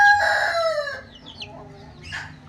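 A country chicken lets out a loud squawking call at first, then softer clucks and faint chirps follow while its beak is held for medicine.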